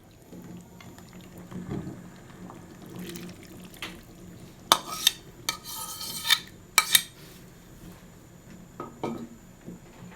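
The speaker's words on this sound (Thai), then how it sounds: "น้ำเราเดือดแล้วนะคะ เราเตรียมใส่เลยนะคะ รากผักชีลงไปนะคะ เลือดก้อนนะคะ" Coriander root and blood cubes dropped into a pot of boiling water for a northern Thai pork noodle broth, a burst of clinks and splashes midway over a low bubbling bed, with faint utensil taps before and after.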